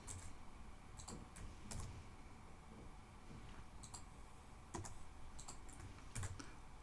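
Code is typed on a computer keyboard, with quiet scattered keystrokes and clicks coming in small clusters against a soft room hum.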